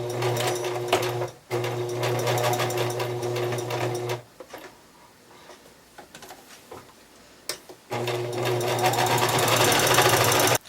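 A sewing machine stitches a homemade bread basket liner in loud rapid bursts, a short pause between the first two, then a quieter stretch of handling before the whirring stitching resumes.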